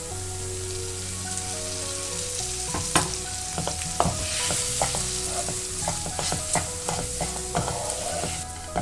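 Lemon poha sautéing in oil in a pan, a steady close sizzle with repeated stirring clatters and scrapes growing busier partway through, no voices.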